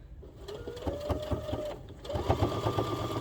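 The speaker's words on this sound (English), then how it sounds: "Using a nice wide hem or top stitching." Sewing machine top stitching a wide hem on a slip-through neck scarf, running in steady rapid bursts with a brief pause partway through, close and moderately loud with no talking.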